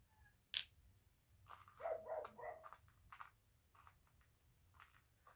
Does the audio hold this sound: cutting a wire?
no